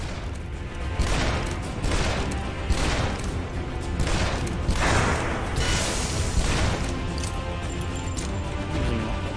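Sustained heavy gunfire in the Shadow Warrior video game, a dense barrage of loud shots and crashing impacts running continuously, with no talk over it.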